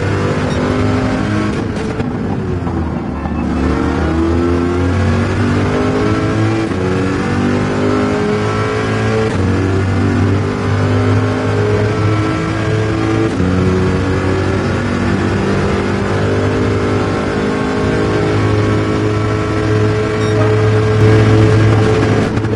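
A Corvette race car engine in Gran Turismo 7 revs hard through rising and falling gear changes, a loud, sustained roar that fills the whole stretch with no talk.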